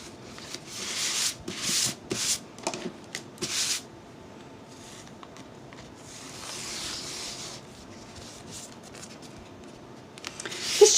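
Chalk transfer with its backing peeled off, its sticky back rubbed to fuzz it up: soft, dry brushing strokes in short bursts, close and fairly quiet, thinning to a faint steady rub later.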